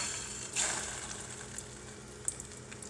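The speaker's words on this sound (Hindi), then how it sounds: "हम फ्राई के लिए डाल देंगे।" Egg-coated beef shami kabab patties are lowered into hot oil, setting off a brief hiss that settles into a soft, faint, steady sizzle with a few small pops.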